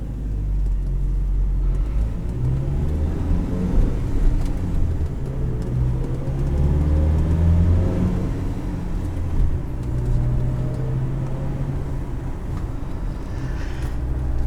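A 2011 Ford Ranger pickup with a 5-speed manual transmission drives along, its engine and road noise making a steady, close rumble that swells and eases slightly as it runs.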